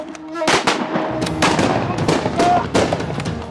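Sharp cracking gunshots ring out repeatedly in irregular bursts during a battle in an Arabic TV drama, loud and close, with a faint voice murmuring underneath.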